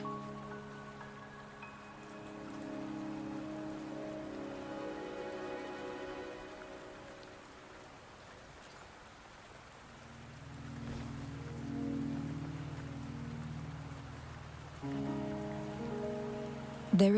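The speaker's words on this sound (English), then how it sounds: "Are you trapped here by the rain?" Steady rain patters in the video game Wuthering Waves over a soft, sustained musical drone that shifts notes, with a faint click near the end.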